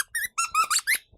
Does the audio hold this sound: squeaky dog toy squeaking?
yes